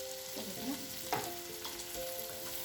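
Stored onions and pre-chopped leeks frying in a pan for leek and potato soup, a quiet even sizzle broken by a few spoon scrapes and a light knock as they are stirred.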